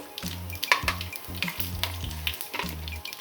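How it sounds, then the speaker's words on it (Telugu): Chana dal and peanuts sizzle steadily in hot oil for a lemon rice tempering, with a bright frying crackle and a low, rhythmic humming tone pulsing beneath it. "మనకి ఆయిల్ బాగానే కాగిపోయింది కాబట్టి వెంటనే శనగపప్పు ఇంకా వేరుశనగ గుళ్ళు"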